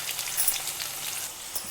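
Chopped onions frying in a pan with salt, a soft steady sizzle and crackle close by, with no voices over it.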